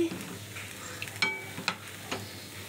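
Jal pantua sweets frying in oil as they are flipped over, a soft bubbling sizzle broken by several sharp scrapes and clacks of the turning spoon against the pan.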